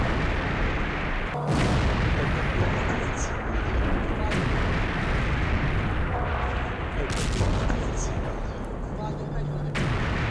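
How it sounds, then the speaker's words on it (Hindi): Several heavy booms from a night-time drone attack in Dnipro burst out over a constant rumbling roar, spaced a few seconds apart, with a voice faintly audible underneath. "निप्रो में धमाके का वीडियो सामने आया है, रात के वक्त हुआ है जबरदस्त धमाका"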